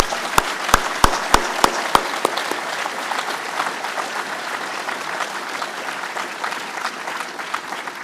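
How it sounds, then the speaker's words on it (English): A conference audience applauds the Hon. Chrystia Freeland: a few sharp, close claps open it, then steady dense clapping continues at an even level to the end. "Let's have another round of applause for the Minister."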